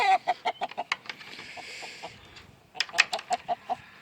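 Hens clucking in short, repeated bursts, close by, among three old breeder hens and a rooster, with a brief pause in the middle before a fresh run of clucks.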